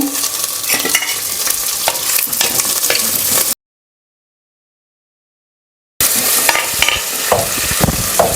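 Onions and curry leaves frying in a pan for chicken gravy, a loud continuous sizzle with stirring scrapes, close up and broken by a few seconds of silence.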